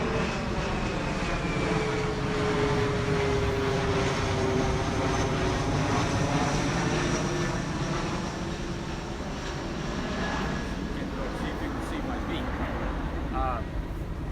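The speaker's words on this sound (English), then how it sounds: "After this plane goes by, I'll just do this for a time." An airplane passes overhead outdoors, a steady broad engine drone with slowly shifting tones that holds throughout, moderately loud behind a speaking voice during a qi gong session.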